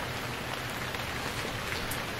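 Steady rain falls in the survival video game Stranded Deep, an even, dense hiss of drops spattering on surfaces, with no voices.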